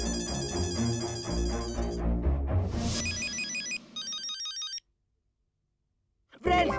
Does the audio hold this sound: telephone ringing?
yes